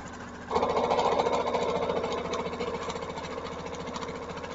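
A sewing machine stitches a washable paper towel: a steady, fairly loud mechanical whir with a fast rhythmic chatter kicks in after half a second and runs on continuously to the end.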